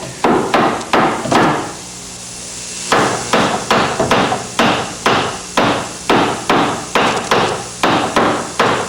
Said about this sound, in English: He's going to tap it in until the bevel is level.